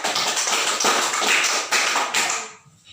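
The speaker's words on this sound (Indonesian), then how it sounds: "Berikan aplaus yang meriah untuk anak Tina." Students give a burst of applause in a classroom, loud and dense clapping that goes on for over two seconds and then quickly fades out.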